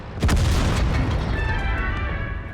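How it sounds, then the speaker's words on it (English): A single heavy tank cannon shot in a World of Tanks style battle against an AMX CDC, a loud booming blast with a long rumbling tail and faint ringing echo afterward. "The AMX CDC survives the hit, but a second shot puts it down for good."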